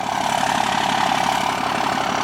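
A 6.7 Cummins diesel engine in a Dodge Ram 2500 pickup idles nearby with a steady, low, rumbling drone that holds even throughout.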